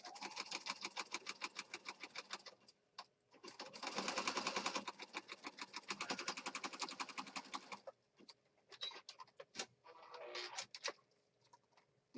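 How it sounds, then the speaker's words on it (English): Sewing machine stitching through fabric in a mixed media craft project, a fast even rattle in several bursts of a few seconds each with short pauses between, close and fairly quiet. "I'm just going to sew right in the middle."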